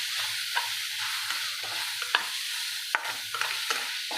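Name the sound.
vegetable being stir-fried in a pan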